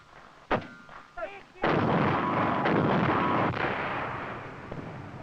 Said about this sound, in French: Les engins filoguidés à longue portée et les canons anti-chars ouvrent le feu à partir de positions masquées.